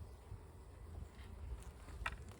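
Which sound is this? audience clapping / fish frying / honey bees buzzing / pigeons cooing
honey bees buzzing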